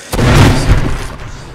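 A loud, close explosion in the VR co-op shooter Arizona Sunshine, a single heavy boom with a sharp onset that rolls into a rumbling decay over about a second.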